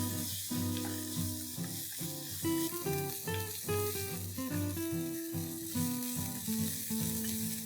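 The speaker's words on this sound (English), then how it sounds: "I'm going to add one small onion that I finely chopped, and I'm going to saute this till it's nice, soft and pink" Finely chopped onion sautés in a pan, giving off a soft, steady sizzle beneath louder background music that plays throughout.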